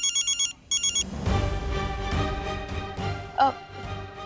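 A telephone rings indoors in a domestic comedy scene, two short electronic ring bursts up front, followed by a softer busy mix of tonal sounds and a brief beep near the end.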